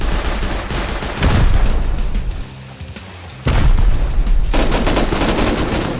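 Loud Rust raid gunfire rattles in dense automatic bursts, with a brief lull in the middle before the heavy firing resumes, close and continuous.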